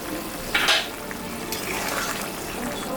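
Katla fish curry broth boiling in an uncovered pot, a steady bubbling hiss that runs throughout, with a brief louder clatter near the start.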